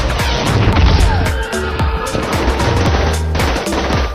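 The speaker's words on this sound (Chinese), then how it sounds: "保镖们向他们发起猛烈的射击，马克展开披风" Heavy gunfire in a Moon Knight action scene as bodyguards open fire: dense, loud bursts of automatic shots and impacts overlapping with crashes and film score, sustained throughout.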